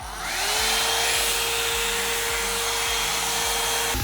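A Hot Tools BlackGold One Step blowout dryer brush spins up and runs on its high setting with a loud, steady airy whir and motor hum, brushing sounds pulsing rhythmically through it.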